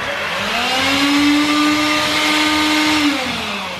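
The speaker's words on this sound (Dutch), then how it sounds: "Als ik namelijk onder een kast wil stofzuigen, doordat hier de kruimeldief op zit" AEG CX7 cordless vacuum cleaner running loud and close, a steady high motor whine that rises slightly in pitch and holds, then drops a little at the end.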